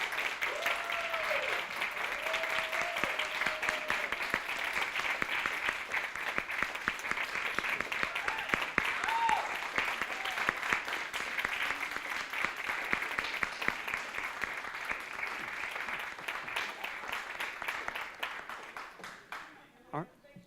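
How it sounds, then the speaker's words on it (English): Audience applause for workshop leaders at a creative writing workshop reading event: sustained room-filling clapping that continues steadily, with a few faint voices underneath, before tapering off near the end. "we'd like to give another round of applause to our workshop leaders."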